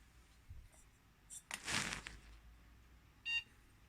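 A computer motherboard in a small four-GPU mining rig gives a brief electronic beep at power-on near the end, after a burst of rustling and handling noise; no one speaks.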